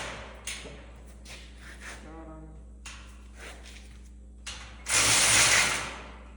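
A ratchet tightens bolts during an ATV cart repair, giving a few short bursts of clicking with pauses between them, close by. A loud rushing scrape near the end covers the clicks.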